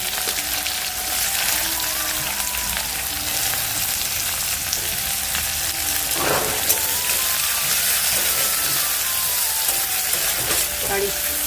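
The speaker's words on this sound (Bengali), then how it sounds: "এখন আমি এই যে কটা সর্ষে দিয়ে দিব, তারপরে এই যে পেঁয়াজগুলো দিলাম" Mustard seeds and onions sizzle and spit in hot oil, a loud steady frying crackle with occasional sharper pops, heard alone without talk.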